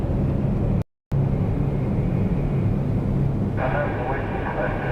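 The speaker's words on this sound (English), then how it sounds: "Max 8 coming in, WestJet" A WestJet Boeing 737 MAX 8 airliner comes in to land at Toronto Pearson, its engine rumble a steady, moderately loud roar at a distance, with brief talk over it and a short dropout near the start.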